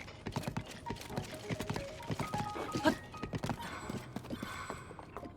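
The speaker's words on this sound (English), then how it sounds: "Sound of a horse trotting is very satisfying to me." Clip-clop of a horse trotting in The Legend of Zelda: Tears of the Kingdom, a steady rhythm of hoof falls over game music and effects, with a brief thump near the middle.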